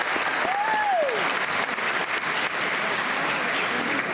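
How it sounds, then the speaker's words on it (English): Audience at an event applauding and cheering for a drummer being introduced as a judge, dense sustained clapping with a rising whoop over the crowd, loud and continuous. "Please make some noise for Donna Tutt, everybody."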